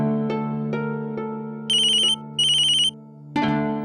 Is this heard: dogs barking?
no